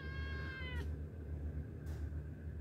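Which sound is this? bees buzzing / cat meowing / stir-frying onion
cat meowing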